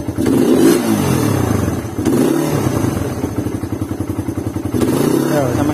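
A motorcycle engine with a newly installed camshaft revs up and settles back several times, loud and close with a chugging, pulsing idle between throttle blips, while someone talks over it.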